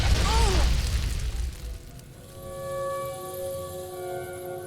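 An oven explodes in the video game Fallout 3 as someone tries to switch it on, a loud booming blast that fades over about two seconds into a quieter lingering hum with tonal ringing.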